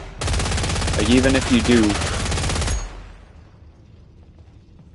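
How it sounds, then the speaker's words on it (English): A railgun from the video game Killing Floor 3, firing lightweight tungsten sabot darts in one sustained, rapid automatic burst lasting a few seconds that then cuts off abruptly. A voice talks over the gunfire. "Unique railgun that fires lightweight, simple ammo, making it a weapon focused on suppression, not precision."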